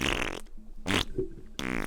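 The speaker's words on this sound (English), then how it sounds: "God, he's really loving them fart noises." Cartoonish fart sound effects blurt out in three loud, close bursts: a long buzzy one, a short pop in the middle and another drawn-out raspy blast at the end, with brief quiet gaps between.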